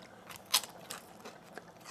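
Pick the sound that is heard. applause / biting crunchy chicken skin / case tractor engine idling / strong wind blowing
biting crunchy chicken skin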